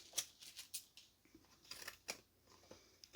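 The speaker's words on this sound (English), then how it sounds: "we'll use these scissors just for the heck of it." Scissors snipping through thin, tough rice-type paper, a quick series of soft crisp cuts, close and quiet with no voices.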